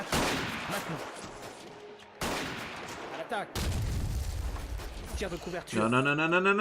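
Rifle volleys in the World War I strategy game Battle of Empires 1914-1918, with loud bursts of massed gunfire cutting in several times, followed by a rising tonal game sound at the end.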